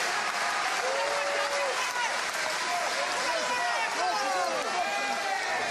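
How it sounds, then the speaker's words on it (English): A boxing crowd at a WBA super middleweight world title fight between De Carolis and Feigenbutz roars and claps continuously to urge on a fighter, a dense arena swell under a commentator's voice. "Crowd again trying to raise their man, trying to urge him on."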